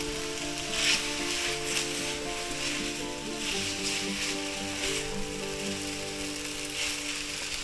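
Garlic shrimp and vegetables stir frying in a pan give a steady, close sizzle with a rain-like crackle, steady throughout with no talking.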